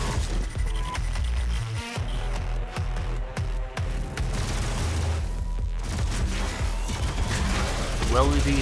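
Doom's machine gun firing small rockets in a dense, continuous barrage, with booming blasts and a mechanical clatter merging into a loud, unbroken roar of combat noise.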